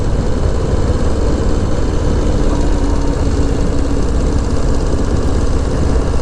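Harley-Davidson Low Rider ST Softail motorcycle engine under way, a loud steady drone with heavy wind rush and no speech, holding an even level throughout.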